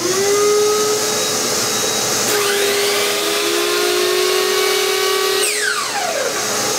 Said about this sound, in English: it will activate the vacuum cleaner and enable the saw to run.